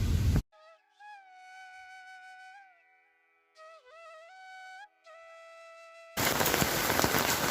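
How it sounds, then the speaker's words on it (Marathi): Steady hissing rain at the start and end, loud and close, with a sustained melodic tonal sound filling the stretch in between. "मस्त असा पाऊस पडतोय"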